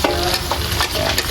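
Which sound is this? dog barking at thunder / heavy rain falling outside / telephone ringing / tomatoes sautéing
tomatoes sautéing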